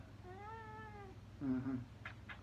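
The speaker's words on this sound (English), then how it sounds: "I'm going to show the fat cats." A cat meows twice up close, a long wavering meow followed by a shorter, lower one, then a couple of faint soft noises.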